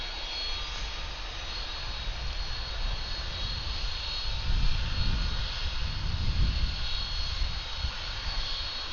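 A Southwest Boeing 737 jet rolls for takeoff at Atlanta airport, a distant steady engine roar with a broad hiss that swells in low rumble midway through, heard alone.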